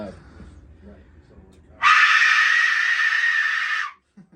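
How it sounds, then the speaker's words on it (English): An Aztec death whistle lets out a loud, harsh, sustained scream lasting about two seconds, piercing and close, following a stretch of quiet talking and then cutting off abruptly. "is called an Aztec death whistle, which makes a terrifying sound"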